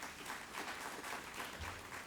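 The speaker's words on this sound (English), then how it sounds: "so a round of applause for Chris" Distant, faint applause from a small audience at a small business award presentation, an even patter of clapping across a couple of seconds.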